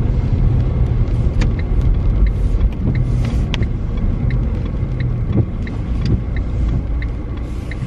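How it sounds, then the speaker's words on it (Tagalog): A car passes on a rainy day, making a steady, loud road rumble and wet hiss that fills the whole stretch without a clear rise or fade. "Merong sasakyan."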